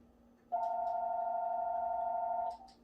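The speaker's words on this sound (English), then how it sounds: "every time I'm taping, this stupid phone rings" A landline telephone in a home kitchen gives one sustained electronic ring tone lasting about two seconds, clear and fairly close, with faint room noise before and after and no talk.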